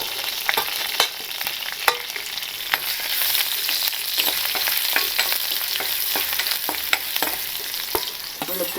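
Curry leaves and ginger sizzle in hot frying oil for a tamarind curry, giving a steady crackle broken by sharp pops and stirring clicks, close by with no talk.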